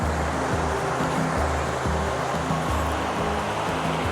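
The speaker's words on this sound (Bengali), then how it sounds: "ওহ দারুণ ঢেউ দিচ্ছে" Waves break continuously on the shore at New Bakkhali sea beach as a dense, even wash of surf noise over a low, pulsing drone, with no speech.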